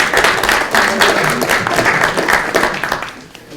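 Attendees at a school district study meeting break into a short burst of applause, many hands clapping close and steady for a few seconds before it starts to thin out.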